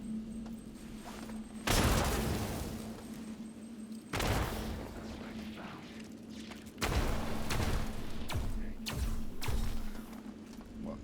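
Grenades bursting in the System Shock remake, several heavy thumping blasts spaced a few seconds apart over a steady low hum, each one loud and booming before fading.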